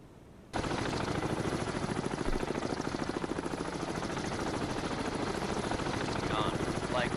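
Wessex helicopter making an attack run in the naval combat game Cold Waters, a loud, steady rotor chop with rapid rhythmic pulsing that holds on continuously after an abrupt start.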